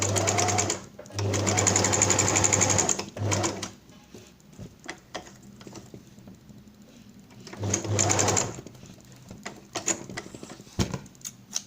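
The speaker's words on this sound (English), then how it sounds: "So at this point, you sew it. This is how you sew it." Sewing machine stitching a headscarf crown in two loud, rapid bursts of whirring needle chatter separated by a quieter pause with light handling noises and faint movement.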